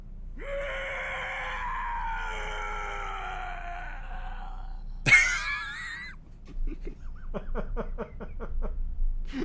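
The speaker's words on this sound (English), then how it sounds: "That scream though" A drawn-out, wavering scream from a character in the Digimon Adventure PSP game rises and holds for several seconds, then breaks into a sharp shriek followed by a series of short, rhythmic gasping cries.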